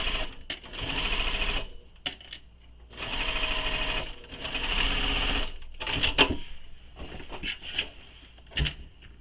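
A sewing machine stitches in several bursts of a few seconds each, with brief pauses between and small clicks and handling noises toward the end, up close.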